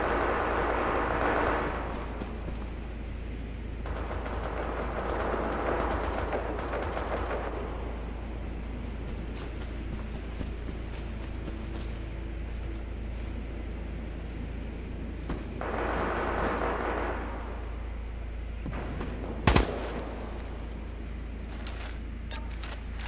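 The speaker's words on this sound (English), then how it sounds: "Artillery fire incoming." Artillery fire in a PC war game: several distant, rumbling bursts swell and fade across the scene, with one sharp, loud crack standing out near the end over a steady low battlefield drone.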